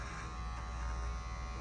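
An electric hair trimmer hums in a steady, continuous buzz close up while cutting a bald fade, with no pauses and no talking.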